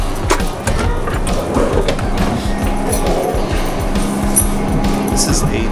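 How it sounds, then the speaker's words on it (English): Interior of an old 201 series commuter train in motion, a steady rumbling clatter of wheels and car noise throughout with people talking over it. "So this is an old train that we're riding."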